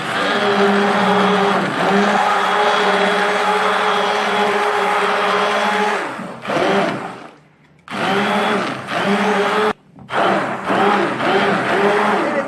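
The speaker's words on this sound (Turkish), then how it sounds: "rondo ile biraz karıştırıyoruz bu malzemeyi" A hand mixer whirs steadily through cocoa lokum ingredients in a pot, loud and close with a sustained motor drone, then stops and restarts in short bursts with brief silent gaps.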